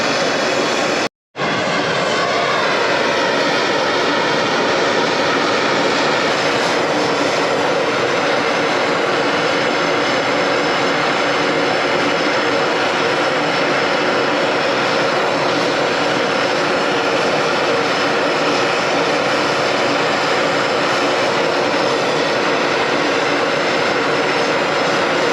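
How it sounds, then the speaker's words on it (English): A gas torch burning natural gas for brazing during an air-conditioning condenser and evaporator replacement roars in a loud, steady, continuous rush that holds unbroken for over twenty seconds after a brief dropout at the start. "my torch kit is not working, so I'm using the nat gas, which is taking twice as long."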